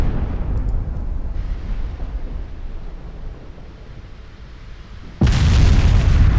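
A battleship flash fire explosion in the naval video game Ultimate Admiral Dreadnoughts: a long, low rumbling roar, then a sudden loud, broadband blast near the end that stays heavy and booming.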